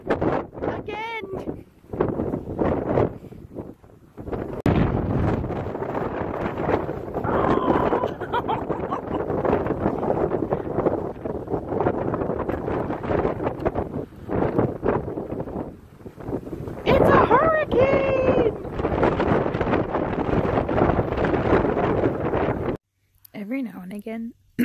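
Strong wind blows over mountain grassland in Southern Arizona, roaring and buffeting close to the microphone almost without a break, loud throughout and dropping away only briefly near the end.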